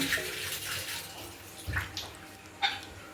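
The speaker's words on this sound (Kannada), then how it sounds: "ವಾಶ್ ಮಾಡಿದ್ದಕ್ಕೆ ಸ್ವಲ್ಪ ಚೆನ್ನಾಗಿ ಸೋಪ್ ಹಾಕಿ ತೊಳೆದು" A new cooking pan washed with soap and water, making quiet splashing and running-water sounds with a few brief clinks and sloshes, close by and low in level.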